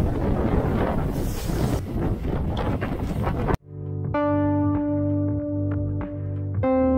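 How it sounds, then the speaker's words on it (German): Strong wind of about 20 knots blows straight at the bow of a sailboat off the Dutch and Frisian coast, a loud steady roar battering the microphone, then it cuts to a calmer, tonal stretch. "20 Knoten Wind, genau von vorne."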